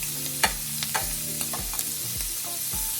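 Shrimp sizzling in a pan over medium-high heat, a steady fry broken by several sharp clicks and scrapes of stirring and turning, close and without talk.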